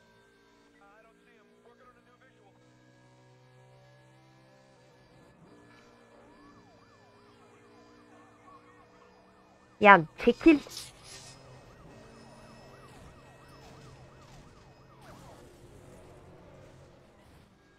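Police sirens wail in the racing game Need for Speed: The Run, layered over steady engine drone, with a sharp burst of loud crash-like impacts near the middle and someone talking briefly.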